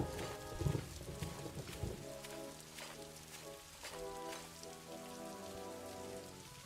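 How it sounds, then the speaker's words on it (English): A steady spring rain shower falls outside an inn in the video game Daggerfall Unity, a dense continuous patter heard alone with no talk over it, and a few soft clopping thuds sound in the mix. "Outside, the spring shower continues."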